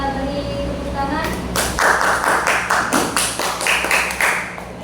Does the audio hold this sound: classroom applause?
yes